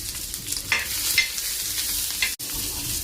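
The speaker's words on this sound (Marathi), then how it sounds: "आता कांदा भाजून घेते आधी" Onion roasts in a pan for a green chicken masala, a steady close sizzle broken by the scrape and clatter of a spoon stirring it.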